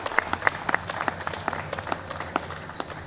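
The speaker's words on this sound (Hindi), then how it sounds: "उतनी बड़ी तालियां होनी चाहिए।" An audience applauds at the opening ceremony of a TV programme for the film Lado Rani, a moderate run of separate claps at an uneven pace throughout.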